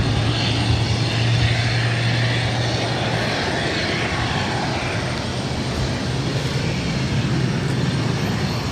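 A JetBlue airliner rolls for takeoff on runway 22 right at Boston Logan, a steady, loud broadband engine roar with a low droning hum, continuous throughout with no voices.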